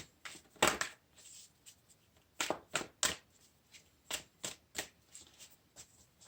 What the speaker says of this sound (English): So let's pull you some oracle cards.